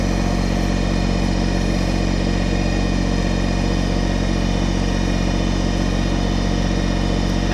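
A Kubota BT602 backhoe's diesel engine idles steadily and loudly, a constant rumbling drone with no change in pitch and no voices.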